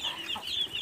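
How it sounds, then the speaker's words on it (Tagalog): Clucking from a fighting rooster kept alongside ducks and broiler chicks, a short, close, soft burst of clucks with no voices. "may mga manok na panabong"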